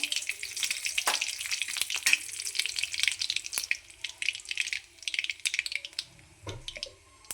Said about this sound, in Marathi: मोहरी तडकली की त्यामध्ये कढीपत्ता टाकायचा